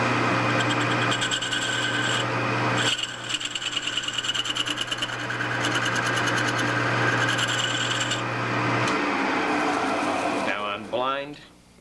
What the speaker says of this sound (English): we'll go in with our boring bar and make this hole perfect.